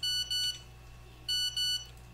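A cellphone text message alert sounds two bursts, each a pair of short high electronic beeps, clear and close, separated by a brief pause in a quiet room.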